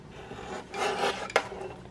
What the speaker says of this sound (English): I'm gonna trim this photo just a bit, and I'm gonna get my little Tim Holtz guillotine trimmer